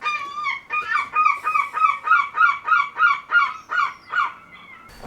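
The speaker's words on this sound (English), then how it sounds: "I'll just wait 1 second whilst the seagulls have a fight on my garage roof." Seagulls squabble on a garage roof, a loud, close run of repeated harsh cries in a steady rhythm that carries for about four seconds before breaking off.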